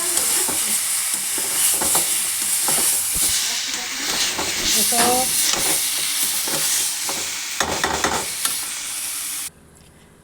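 Chicken marinated in yogurt, spices and chillies sizzles loudly in a pan while a spatula stirs and scrapes it in repeated strokes; a voice speaks briefly, and the frying cuts off abruptly near the end.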